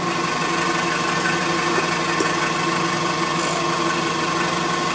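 Power drill boring a deep small hole, pushed half an inch in one go, producing a steady close whirring drone with a faint squeal near the end and no talking.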